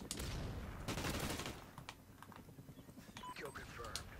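Rapid gunfire from the video game Call of Duty: Ghosts, with dense bursts of shots that are loudest at first and then thin to scattered cracks, under a voice talking.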